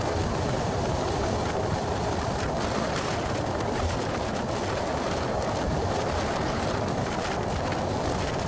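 A train crossing the Padma Bridge over the river on a first trip, heard from inside the carriage as a loud, even, continuous rumble and roar without distinct clacks, steady throughout with no talking.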